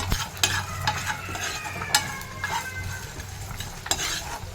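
Spices sizzle and fry in a pan for a fish pickle, with a steady crackle and occasional scraping clinks of a spoon stirring against metal, close and moderately loud with no talking.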